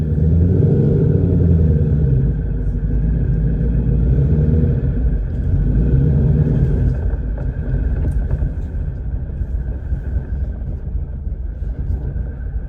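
A tuned Ford S550 Mustang engine rumbles steadily as the car backs up, its loud low drone holding evenly with a little wind buffeting the microphone.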